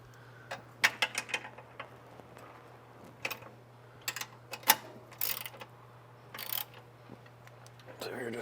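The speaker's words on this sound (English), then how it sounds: "you're going to need your 17mm wrench and your 17mm ratchet." A 17mm ratchet snugs the sway bar bolts on a VB-generation Subaru WRX during an Eibach sway bar install, giving scattered clicks and ticks up close over a steady low hum.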